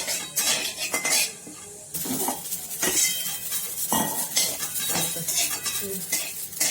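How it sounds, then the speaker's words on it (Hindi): Garden cress seeds (halim) dry roasting in a kadhai, a close, busy clatter of a spoon scraping and stirring the metal pan with light crackling and popping throughout, no talking. "इसे भी कढ़ाई में सूखा आपको भूंजना है।"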